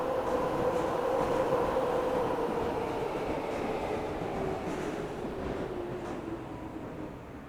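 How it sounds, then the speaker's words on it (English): A London Underground train pulls in within the Train Sim World 5 game, a loud rumbling roar with a steady whining motor tone that slowly fades and lowers as it slows, no voices. "Underground coming in"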